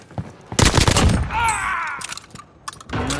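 A loud burst of gunfire erupts in Call of Duty Warzone on Rebirth Island, followed by quieter shots, electronic tones and shouted in-game voices.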